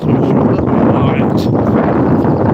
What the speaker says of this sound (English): very, very windy this morning